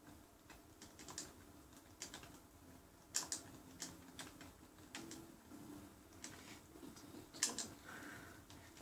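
Quick typing on a computer keyboard, a run of soft irregular key clicks with a few sharper taps, close and fairly quiet, with no voices.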